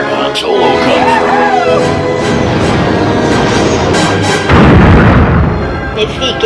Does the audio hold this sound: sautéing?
no